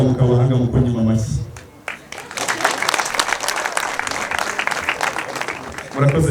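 Wedding guests break into applause after a voice speaking over a harmonic tone. The dense, steady clapping lasts about four seconds before talk resumes.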